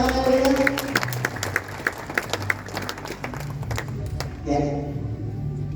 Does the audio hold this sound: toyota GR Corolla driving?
no